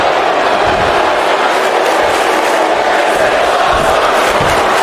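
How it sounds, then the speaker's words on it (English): Dense, steady crowd noise from a WWE wrestling video game arena fills the scene, a loud continuous roar of cheering without distinct breaks. "And the crowd is liking what they are seeing from Grayson Waller, ladies and gentlemen."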